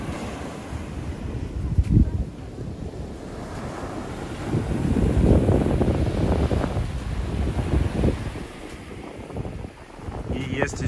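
Ocean waves wash onto the hotel beach at the Amanwella resort in Sri Lanka, a continuous surging roar with swells rising and falling, while wind buffets the microphone.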